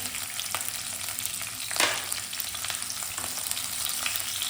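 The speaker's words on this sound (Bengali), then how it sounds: "কাঁচা লঙ্কা কুচি দেবো, একটু পেঁয়াজ কুচি দেবো" Chopped green chilli and onion frying in a pan for veg noodles, a dense continuous close sizzle with faint stirring and one brief louder burst midway, no voices.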